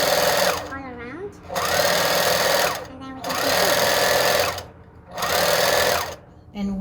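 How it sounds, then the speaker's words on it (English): A sewing machine stitches a fabric cover in repeated bursts of rapid whirring, each run stopping and starting again with short pauses, loud and close. "So just carefully stitch it"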